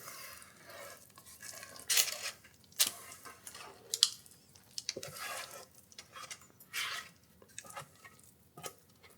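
Scraping sticky tahini date fudge off a sharp food processor blade, with a series of close, irregular metallic scrapes and clicks of a spatula against the steel, loudest in a few sharp bursts.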